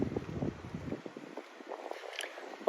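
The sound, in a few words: wind blowing on a street in Japan, microphone wind noise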